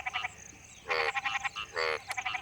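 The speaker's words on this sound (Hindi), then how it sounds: "आमतौर पर प्रजनन काल में नर मेढक टर्राते हैं" Male frogs croak during the breeding season, sounding in several short, buzzy pulsed bursts separated by brief gaps against a quiet hiss of background noise.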